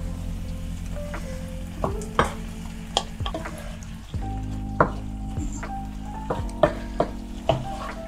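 Chicken pieces fry and sizzle in hot oil with cumin powder in a pan, giving a steady hiss broken by sharp clinks and stirring knocks, with a louder burst of sizzle partway through as more goes in.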